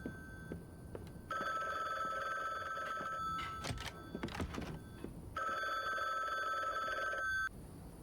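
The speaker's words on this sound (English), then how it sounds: "Maybe it will stop ringing." An old-style telephone bell rings in two long bursts separated by a pause filled with a few thunks and knocks, fairly close and clear in a quiet room.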